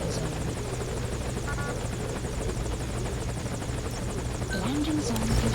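Continuous helicopter rotor beat and engine roar in Metal Gear Solid V Ground Zeroes, loud and steady, with brief game voices and beeps layered under it near the end.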